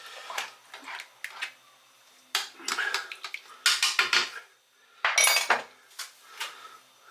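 A spoon clinks and scrapes against a pan while dark soy sauce is stirred into homemade smoky BBQ sauce, in short irregular bursts of close metallic clatter separated by quiet pauses.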